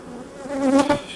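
Honeybees buzz around an open hive frame, a close, wavering drone that swells briefly and then fades.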